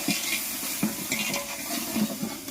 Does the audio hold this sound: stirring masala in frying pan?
yes